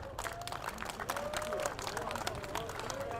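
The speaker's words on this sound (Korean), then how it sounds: "여러분 큰 박수" An outdoor political rally crowd applauds as a lawmaker is called to the podium. The clapping is continuous and moderately distant, mixed with crowd murmur and a faint tonal sound in the background.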